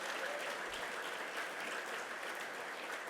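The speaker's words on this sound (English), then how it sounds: "How about another round of applause for the Band of Pride" A crowd at a university football press conference gives a round of applause, a faint, even wash of many hands clapping heard from some distance with no voices over it.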